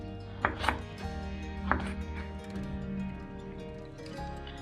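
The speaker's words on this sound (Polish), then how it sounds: "Pomidora kroimy na ósemkę." A knife cuts a tomato into eighths on a board for a spinach salad, with a few sharp chops near the start and scattered softer cuts afterwards over a steady tonal background.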